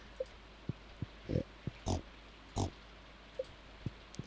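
Pigs in Stardew Valley give short grunting oinks, a handful of quick snorts scattered irregularly over a quiet background, soft and fairly close.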